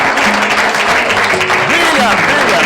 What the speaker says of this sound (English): A big round of applause for Sharon.